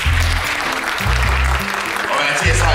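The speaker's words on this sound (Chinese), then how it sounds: "给掌声一下自己" Audience applause at a live stage show, a dense burst of clapping that continues throughout over low, steady tones, with no voices in the foreground.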